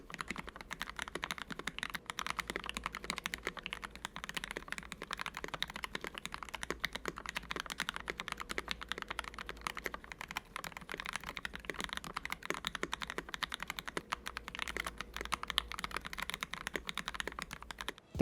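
Continuous mechanical keystrokes on an Ikki68 Aurora gasket-mount mechanical keyboard, clacking steadily and densely at close range for the whole stretch, with no voices.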